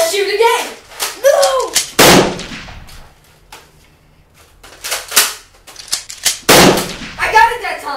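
Video game gunshots crack out in a few sharp bursts between excited voices talking and shouting over the action.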